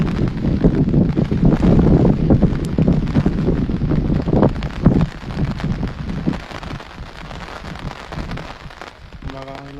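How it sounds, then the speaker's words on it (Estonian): Strong wind gusts buffet the microphone outdoors during the MP40 leader-group final of the 2022 Estonian disc golf championship, a loud broadband rumble and roar that eases slightly toward the end. "Tuul on väga tugevalt tagant"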